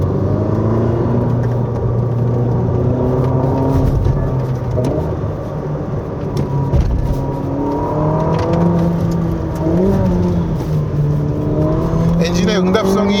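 A Ferrari SF90 Stradale hybrid supercar in race mode accelerates hard along a winding mountain road, its engine droning loud and steady with rising and falling revs through the corners, someone talking over it.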